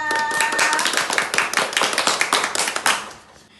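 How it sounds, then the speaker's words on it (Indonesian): A classroom group gives a round of applause for a school presentation, many hands clapping briskly and loudly at close range, a dense burst that holds for about three seconds and then fades out. "Oke, beri tepuk tangan yang meriah."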